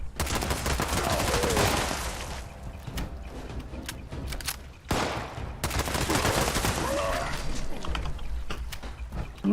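Gunfire from the video game Fallout 76, sustained dense shooting in two long stretches broken by a brief pause, loud and close with game effects mixed in.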